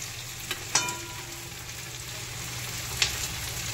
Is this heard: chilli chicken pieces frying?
yes